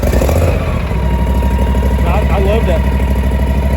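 A zero turn mower engine runs at a steady, loud idle close by, its low droning hum continuous throughout while a person talks over it.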